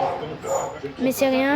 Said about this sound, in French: C'est le chien qui arrête pas d'aboyer